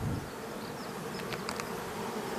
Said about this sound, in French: on voit bien que la ruche déborde d'abeilles